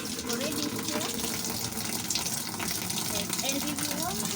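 Water gushes steadily into a 10 kg Ramtons washing machine, a continuous broadband rush with faint speech mixed in throughout.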